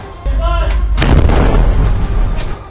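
Series of explosions during an Israeli army assault at Al-Shifa hospital: after a short voice, heavy booming blasts erupt and roll on in a loud, continuous, rumbling barrage.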